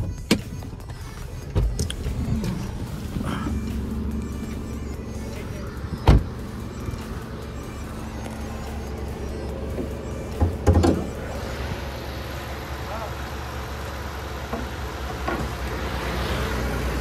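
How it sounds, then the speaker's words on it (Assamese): A Hyundai Verna, a black car in good condition, idles with a steady low engine hum, while a few sharp clicks and knocks sound close by. "গাড়ীখন ষ্টাৰ্টে হৈ আছে মই ইঞ্জিনটো আপোনালোকক ধুনিয়াকে দেখাই দিও"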